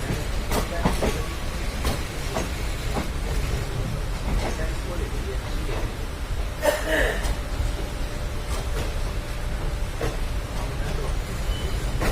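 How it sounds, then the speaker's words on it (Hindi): A passenger train pulls out of a Delhi station bound for Moradabad, its steady rumble and rolling rail noise filling the clip, with occasional clicks and a brief louder clatter near the middle. "गाइस ट्रेन ने जो डिपार्चर है वो ले लिया है"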